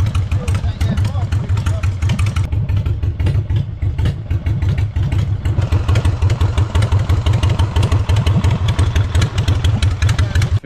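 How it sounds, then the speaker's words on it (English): A stock Harley-Davidson Heritage Softail with a 1450 twin cam engine runs with a loud, close, lumpy V-twin chug, its uneven pulsing beat steady throughout with a slight lull partway through. "What motor is this in this one? It's a 1450 twin cam."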